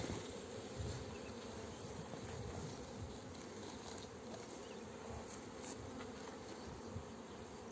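A dense, steady buzz of many honey bees close by at an open hive, continuous and even in loudness throughout, with no voices.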